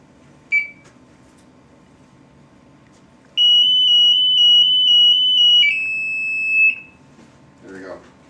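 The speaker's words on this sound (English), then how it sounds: "if you push and hold for 5 seconds to activate the alarm there" An MSA Altair 5X gas detector sounds its instant alert alarm: a short beep, then a loud, sustained high-pitched electronic tone lasting several seconds that shifts pitch before cutting off, with brief talk nearby.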